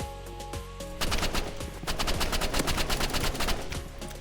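Gunfire in a shooter video game: a single shot, then a rapid run of loud, crackling shots fired in quick succession, close and dense.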